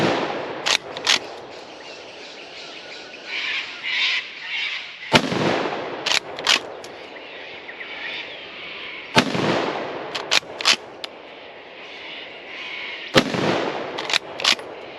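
A Remington 7615 pump-action rifle in .223 fires sharp, loud cracks roughly four seconds apart. Smaller clicks and knocks from working the action come between the shots.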